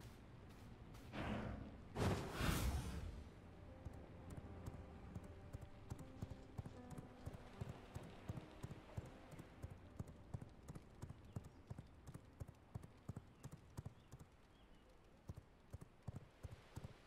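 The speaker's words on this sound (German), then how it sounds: "Ich muss diese furchtbaren Pferde loswerden" Horse hooves clip-clop at a steady, regular trot in the video game V Rising. The beats are crisp and evenly spaced and run for the whole stretch, after a couple of loud whooshing thuds near the start.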